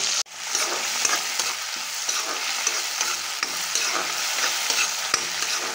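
Sprouted chickpeas and cut potato sizzle and crackle in a pan with a steady, close frying hiss and occasional stirring scrapes, and no voices.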